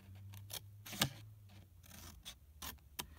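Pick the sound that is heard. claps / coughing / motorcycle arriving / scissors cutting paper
scissors cutting paper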